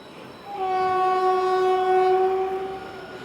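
An electric train's horn sounds a long, steady, loud blast as it crosses the Pamban bridge, over the rumble of the passing train, fading slightly at the end.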